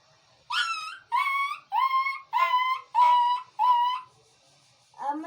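A voice imitates a dog yelping in pain as it is beaten, a run of six high, whining yelps in quick succession, close and clear, with a shorter cry at the end.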